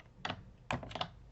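A name is typed on a computer keyboard, giving a few quiet, close key clicks in two short clusters.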